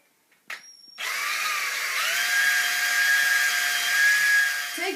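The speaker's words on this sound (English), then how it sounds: "So drill hole, same size as the cable." A power drill starts with a click and whirs in a loud, steady high whine for about four seconds before stopping, drilling a cable-sized hole.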